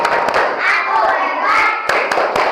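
A third-grade class does its rhythmic clap routine, a run of sharp, closely spaced hand claps in a steady beat that mixes with children's chanting voices in a lively room.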